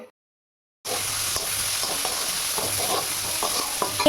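Garlic, slit green chillies, chopped onion, bay leaf, panch phoron and curry leaves frying in hot oil, a steady bright sizzle that starts abruptly after a moment of silence, with occasional scraping stirs.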